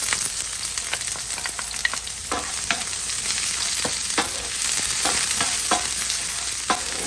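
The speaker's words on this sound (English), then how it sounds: "I'm gonna be adding the garlic and the onions" Garlic and onions frying in a pan for seafood spaghetti, a loud continuous sizzle with frequent sharp stirring and scraping clicks.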